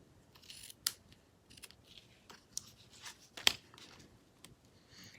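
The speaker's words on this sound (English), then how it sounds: "So let me cut this real quick." Scissors snipping through material, a few quiet, scattered cuts with soft rustling between them, close up and alone with no talking.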